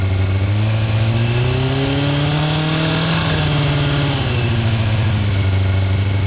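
A steady motorcycle engine idles loudly up close, its pitch rising smoothly then easing back down as the idle screw is turned, with no voices.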